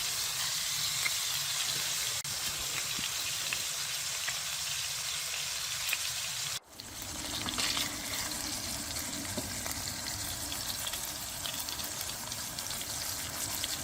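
Burgers topped with American cheese fry steadily in a pan at a camp cookout, giving a continuous close sizzle with one brief sharp break partway through.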